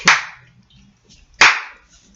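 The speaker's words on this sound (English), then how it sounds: "That's like a soundboard worthy clap right there" Two sharp, loud hand claps about a second and a half apart, each a crisp snap that decays quickly into near silence, heard close up in a quiet room.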